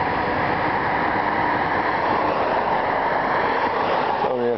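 A CASE/International Harvester Axial-Flow 8230 combine works a wheat field near Wasaga Beach, giving a steady, loud, unbroken mechanical roar and rumble throughout, with a brief change near the end.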